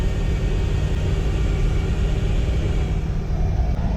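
Deep, steady rumble of a supercharged 1UZ-FE V8 with an M90 blower in a Toyota Land Cruiser Prado, fitted with a big gearbox and big wheels, droning close and even throughout.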